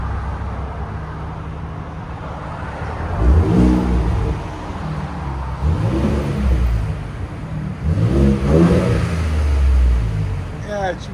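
Ford Raptor pickup with a 3.5L twin-turbo V6 engine revving up from idle in three or four swelling pulls, a steady, fairly loud engine drone throughout.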